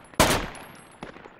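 Gunfire in the video game Project Reality as windows are shot out: one loud sharp report with a decaying tail, then two quieter shots later, no talking.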